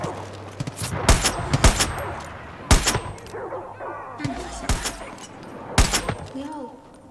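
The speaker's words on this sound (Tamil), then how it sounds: "இப்போ ஒருத்தவனுக்காக 4 புல்லட் வேஸ்ட் பண்ணலாம்." Gunfire in the video game Far Cry 5, with several loud, sharp shots spaced irregularly across the stretch, some in quick pairs, over a rumbling game backdrop.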